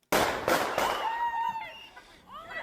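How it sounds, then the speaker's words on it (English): Three sharp, loud cracks in quick succession at the start, then ringing, warbling tones trailing off, like gunshots echoing outdoors. "there's gunfire"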